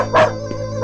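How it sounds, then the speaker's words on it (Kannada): A street dog barks twice in quick succession, loud and close, with a softer yelp between the barks. "ಇದೋ ನಾಯಿ ಬೊಗಳ್ತಾ ಇದೆ."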